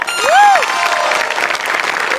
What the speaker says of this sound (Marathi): एकदा जोरदार टाळ्या झाल्या पाहिजेत माझ्यासाठी.